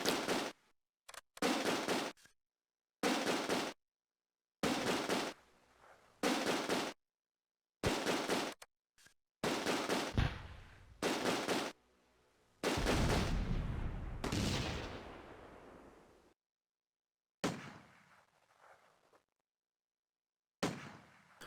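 In a Close Combat Operation Market Garden battle at Son Bridge, an MG42 machine gun rips out short, sharp bursts separated by silences, and a heavy mortar blast booms with a long rumbling tail.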